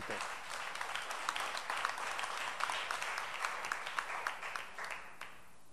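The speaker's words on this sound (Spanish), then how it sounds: "ahí podía ir un aplauso, ahí cuadra un aplauso bonito" Congregation applauding in a church service, a dense steady patter of many hands, fairly faint and distant, fading out near the end.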